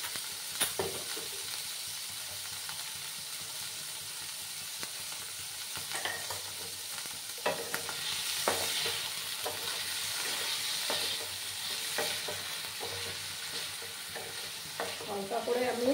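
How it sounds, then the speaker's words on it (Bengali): Paneer pieces fry gently in a pan over a low gas flame, a soft continuous sizzle broken by scraping stirs and occasional clicks of the spatula against the pan. "হালকা করে আমি পনিরগুলোকে একটু ভেজে নেব।"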